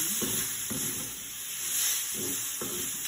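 Spicy and sour Chinese stir fry sizzles steadily in a very hot pan, a continuous hiss with a few louder bursts of stirring and tossing, close and with no talking.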